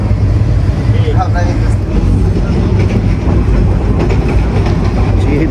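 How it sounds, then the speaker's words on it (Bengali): A train departs a large station at speed, rumbling past loud and close, with a dense continuous roar and faint rhythmic clatter of wheels on the track. "সেই জোরে ট্রেন ছাড়ছে"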